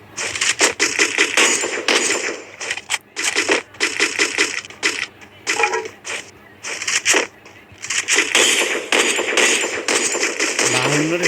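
Video game gunfight in a 2 versus 4 match: rapid bursts of automatic fire in dense clusters with short pauses, loud and close, and a voice talks over part of it.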